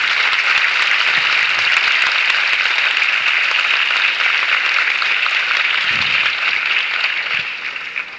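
A large crowd of students occupying the legislature gives long, sustained applause, a loud unbroken wash of clapping that fades slightly near the end.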